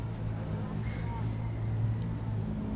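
Steady, loud low engine rumble from a nearby vehicle being unloaded, continuous throughout with a constant drone and faint mid-range clatter, no clear talk over it.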